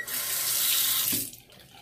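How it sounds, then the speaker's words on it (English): A tap runs into a sink while a razor is rinsed during a straight-razor shave, a close, steady stream of water that cuts off near the end, leaving a quieter trickle. "Rinse off."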